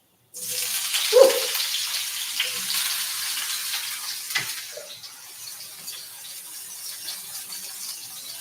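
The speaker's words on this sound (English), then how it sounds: "we have definitely a nice hot pan over here. So I'm going to get the eggplant in" Eggplant goes into a hot pan with a sudden, loud, close sizzle that slowly fades into a steady hiss, with a few faint clinks of cookware.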